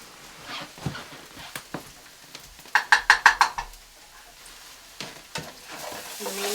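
A utensil scrapes and clatters through fried ramen noodles in a pan, with a quick burst of five rhythmic knocks midway and scattered clinks under a soft sizzle, close and fairly quiet without speech.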